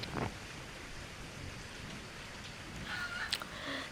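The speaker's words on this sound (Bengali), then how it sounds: "3 দিন ধরে একটানা বৃষ্টি পড়ছে।" Cartoon rain falls nonstop during a rainy season, a soft, even hiss of drops that holds steady and grows slightly louder near the end.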